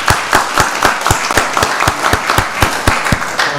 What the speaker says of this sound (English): Let's give Pastor Oliver another round of applause.